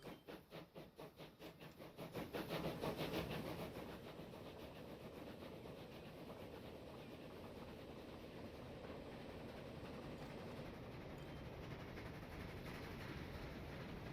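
A train running in the railway simulation game Transport Fever 2, a faint pulsing chug that swells after a couple of seconds into a steady, quiet rolling rumble that continues to the end.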